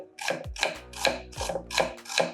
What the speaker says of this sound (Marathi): आता मी हे प्याज काढून घेते आज आपण बारीकच काटणार आहे